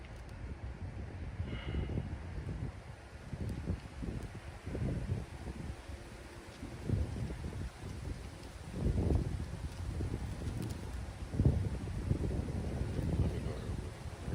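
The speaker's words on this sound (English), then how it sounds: "It's so damn windy out here, dog." Strong wind blows outdoors at a camp, a low rumbling buffeting against the microphone that surges and eases in gusts across the whole stretch, moderately loud and without talk.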